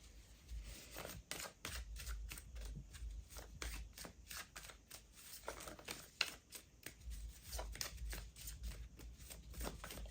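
Tarot cards being shuffled by hand close up, a quick, repeated riffling and flicking pattern that keeps going at a steady pace, fairly quiet, with no talking over it.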